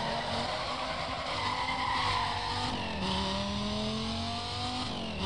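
A Dodge Viper in Need for Speed: Most Wanted roars through rising and falling engine harmonics, while tire squeal and skidding run steadily across the whole stretch. The sound stays loud and continuous with no talk.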